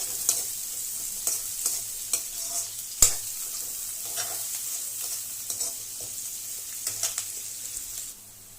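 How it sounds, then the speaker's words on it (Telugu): Sliced onion and green chillies fry in oil over a low flame for chicken liver curry, giving a steady close sizzle with repeated soft stirring scrapes throughout. "చూడండి మన ఉల్లిపాయలు బాగా వేగిపోయాయి"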